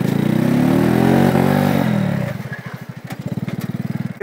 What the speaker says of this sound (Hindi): 50cc बाइक के अंदर मैंने इतना झटके वाला पिकअप नहीं देखा है।